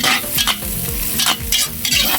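Garlic sautéing in a pan for ginataang manok, a loud close sizzle with vigorous stirring strokes scraping the pan in an uneven rhythm.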